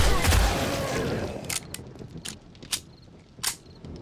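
Short, controlled bursts of gunfire in 7 Days to Die, starting with a heavy rumbling volley and followed by several sharp, separate shots spaced across the clip against a quieter background.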